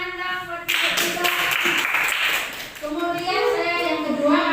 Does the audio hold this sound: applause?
yes